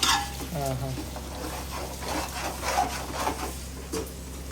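A spoon scrapes and stirs chicken biryani in a pot, repeated rubbing strokes at a close distance against a low steady hum.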